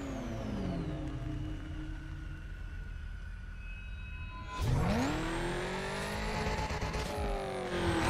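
A Chevrolet Corvette in the Need for Speed Carbon racing game, its engine idling with a steady rumble, then roaring up through the revs in a loud, rising sweep.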